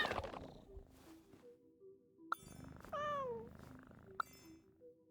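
Cat sounds from a petted in-game cat in Genshin Impact, with a short rising meow-like call amid soft chimes and steady game background music, fairly close and clear.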